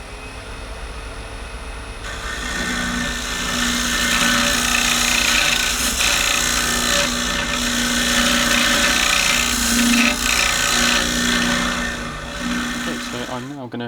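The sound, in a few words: parting tool scraping olive ash cup on wood lathe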